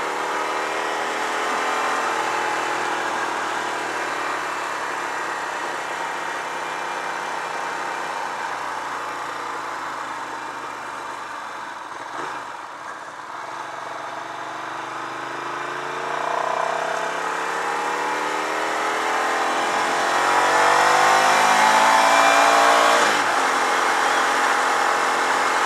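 A Ducati 900SS ie motorcycle engine under way on a cold road, a steady droning note with slowly sweeping pitch as revs rise and fall, heard continuously throughout with wind noise and no talk.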